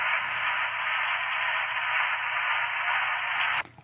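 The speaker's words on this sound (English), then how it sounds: "It gives a little bit more rhythmic white noise." Steady band-limited white noise hisses for several seconds, then cuts off abruptly near the end; there's no strong pulsing.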